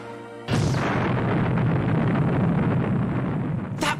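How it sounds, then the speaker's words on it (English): An animated supernova explosion erupts with a sudden loud boom after a brief quiet, then rolls into a sustained, roaring rumble that gradually thins before a sharp closing burst. "That was one! A massive supernova!"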